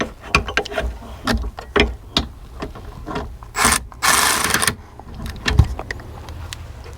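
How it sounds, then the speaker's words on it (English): Bolt being tightened on a Hi-Lift jack mount for a Jeep JKU, heard as close, uneven bursts of ratcheting and scraping metal with short pauses between strokes and a longer grinding stretch in the middle. "then we'll just tighten that down"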